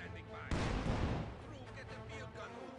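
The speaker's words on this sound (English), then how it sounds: "leave your mortars there for now, but set them to barrage the center point" A Company of Heroes 2 mortar barrage sounds as a sudden broad blast and a rumbling burst of explosions, which fade into a quieter battle din with scattered distant impacts.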